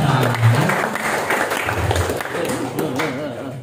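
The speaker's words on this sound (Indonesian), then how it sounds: "Tepuk tangan buat yang belum lah ya." Seminar attendees give a short round of clapping, scattered and moderately loud, mixed with overlapping voices and murmuring throughout.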